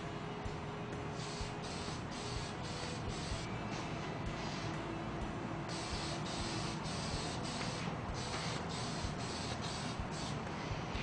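A satin clear top coat from a dip kit hisses out of an aerosol can in a steady, faint spray with short bursts and pauses.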